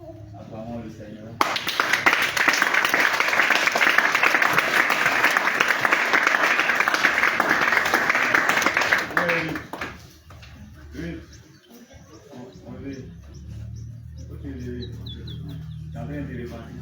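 A worship congregation bursts into loud, sustained applause that lasts about eight seconds and then fades, followed by someone speaking.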